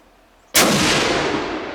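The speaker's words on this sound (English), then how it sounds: "We'll take a couple of shots here." A single rifle shot at an outdoor shooting range: a sudden, very loud crack followed by a long, rolling echo that slowly fades.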